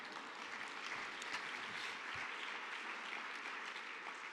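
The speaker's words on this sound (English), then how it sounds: "Give the plumbers a round of applause." Audience applause for plumbers during a keynote speech, dense and steady clapping from a large crowd, sustained evenly throughout with no talking.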